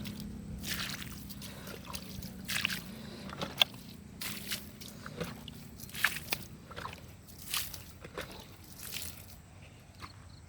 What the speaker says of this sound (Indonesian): Kita siram dulu cabai keriting.